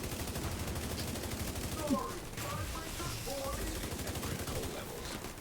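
AK rifle fire in The Division 2 comes as sustained rapid bursts of automatic shots with game effects layered over them, fairly quiet, with a voice talking over the shooting.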